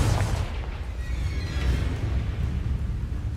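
Confringo fire-blast spell exploding in the Hogwarts Legacy video game, a continuous low rumbling boom with crackling bursts that stays loud and dense for several seconds, no talking.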